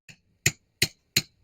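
Four sharp metallic strikes from a small sledgehammer driving stakes for concrete curbing forms, one light tap then three heavier blows at a steady pace, close and isolated.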